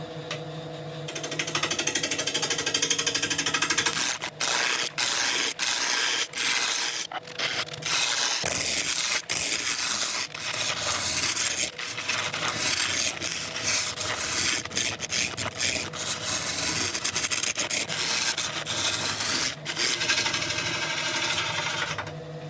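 A lathe works a block of very heavy wood, its tool making a constant close, loud scraping and rumbling drone with brief breaks and shifts in pitch over about twenty seconds, with no voices.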